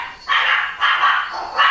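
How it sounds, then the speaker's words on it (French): Dog barking indoors nearby, three loud sustained barks in an even rhythm, close and clear with no talking over them. "Désolé pour le chien."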